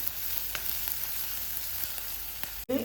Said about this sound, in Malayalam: ചെറിയ ഉള്ളി നല്ല സോഫ്റ്റ് ആവുമ്പോൾ നമുക്ക് ഒന്ന് വഴറ്റിയിട്ടെടുക്കാം